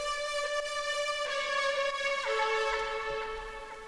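A retro synth lead patch called the Brixton Lead plays a dry melodic line with bright, buzzy sustained notes shifting pitch a few times, heard alone.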